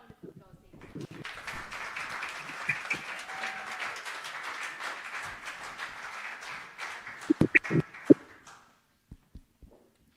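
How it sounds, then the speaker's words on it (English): An audience at a Parkinson's community event applauds for several seconds, a soft spread of clapping that thins into a few last isolated claps. "A big round of applause, ladies."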